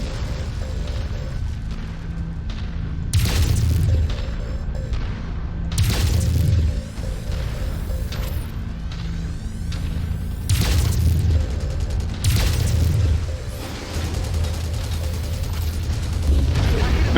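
Heavy weapon fire destroying mechs in modded MechWarrior 5: Mercenaries: loud, booming blasts recurring roughly every three seconds over a constant rumbling battle din and mechanical hum.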